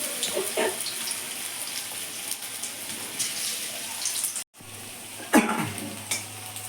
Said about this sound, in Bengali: সুন্দর করে তেলের মধ্যে ছেড়ে দিচ্ছি।